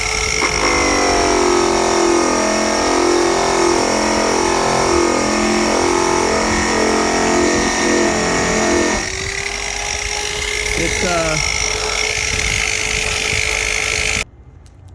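Power polisher buffing the aluminum skin of a 1963 Airstream trailer, a steady loud whirring drone with a wavering pitch that shifts partway through, then cuts off abruptly near the end.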